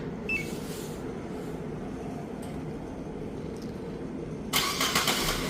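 A 2015 Renault Samsung New SM5 engine cranks and starts by remote starter, a steady low rumble running throughout with a louder burst near the end as the engine catches.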